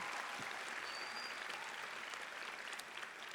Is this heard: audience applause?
yes